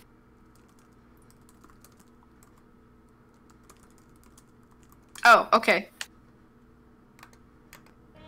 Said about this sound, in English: I hear you typing now.